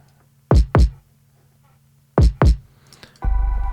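Hard, heavy trap kick drum programmed in a busier pattern: two quick pairs of booming, punchy hits with deep low-end tails, followed by a sustained bass-heavy stretch, loud and alone.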